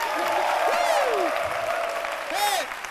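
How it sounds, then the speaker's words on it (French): Audience applause breaks out in a studio during a French-language midday RTI television programme, steady broadband clapping across the clip with voices and cheers rising over it. "Applaudissez-vous un peu."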